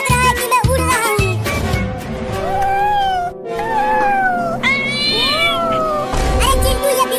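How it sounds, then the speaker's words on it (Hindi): A cartoon cat meows repeatedly in drawn-out, rising and falling cries, loud and close, over a busy background of other cartoon sounds. "अरे चिंटू, ये बिल्ली इतना बोल क्यों रही है?"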